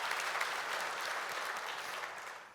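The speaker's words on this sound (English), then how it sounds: "I'll clap for that" Dense, steady clapping from a group at a SUSECON keynote, a continuous patter of hands that softens slightly toward the end.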